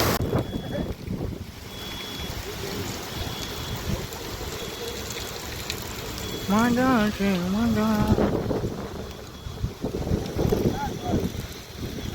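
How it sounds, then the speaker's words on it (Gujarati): Strong wind blows through Babra during a heavy rainstorm, a steady rushing roar buffeting the surroundings, with a person's voice heard briefly in the middle over the gusts. "બહુ પવન ઉડ રહા है"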